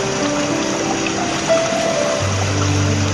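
A child blowing air bubbles out of the mouth into pool water during a swimming lesson, a continuous bubbling, gurgling wash with steady water noise and a low hum from the pool setting, no talk.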